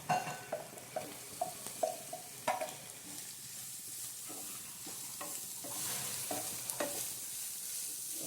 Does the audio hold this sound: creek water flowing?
no